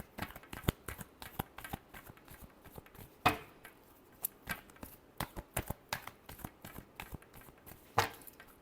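Tarot cards being shuffled by hand, a run of quick, irregular riffling snaps and soft card slaps close up with no talk, one sharper slap near the middle and another near the end.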